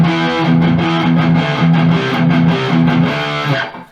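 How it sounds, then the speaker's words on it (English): Electric guitar plays a chugging, rhythmic riff through a heavily distorted amp channel with an MXR Micro Amp boost pedal engaged, thick and loud with steady repeated chords before ringing out at the end. "So I'm going to play something on a distorted sound."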